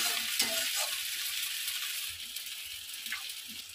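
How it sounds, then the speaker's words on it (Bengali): Chicken kosha with sugar being stirred in a hot pan, a steady close sizzle with soft scraping strokes of the spoon over it, alone without talk. "তো চিনিটা দিয়ে একটু নাড়াচাড়া করে নিলাম"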